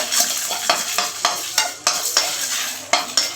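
Dried chillies and fresh curry leaves fry in a pan for a village-style country chicken curry: loud, close crackling sizzle broken by repeated rhythmic scrapes and knocks of a stirring spoon, with no talking.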